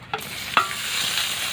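Pieces of raw mango, fried earlier, go into hot oil with bay leaf, dried chilli, cardamom, cumin and nigella seeds, giving a sharp sizzle and a stirring scrape before settling into a steady crackling fry.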